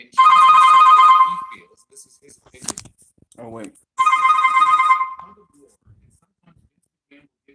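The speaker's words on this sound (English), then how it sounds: "That was my phone that rang." A mobile phone rings out in two loud, bright bursts about a second long each, separated by a short gap in which someone speaks and a click sounds, then quiet with faint rustling.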